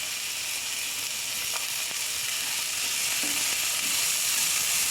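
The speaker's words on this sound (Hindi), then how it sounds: "इसको भी अनियन के साथ सौते कर लेंगे।" Chopped capsicum sautés with onion in a pan, a steady close hiss of frying with a few faint stirring clicks underneath, no voices.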